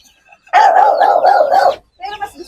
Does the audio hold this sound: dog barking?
yes